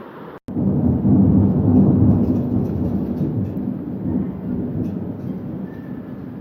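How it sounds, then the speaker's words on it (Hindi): Steady evening rain pours down in a loud, continuous broadband rush with a deep low rumble beneath it, briefly cut by a short gap near the start and then holding evenly throughout. "अभी बारिश भी हो रही है अल्हम्दुलिल्लाह से।"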